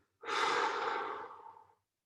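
One long, deep exhale released after a held breath during a lat mobility exercise, a breathy rush starting strong and fading over about a second and a half, close and alone.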